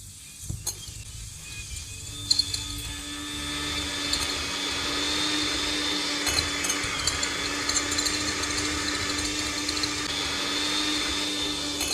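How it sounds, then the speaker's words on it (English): An electric mixer whirs steadily through chocolate dough, a constant motor hum with a high whine that starts after a few clicks and keeps running to the end. "Now, with an electric mixer, we're going to break it up a bit"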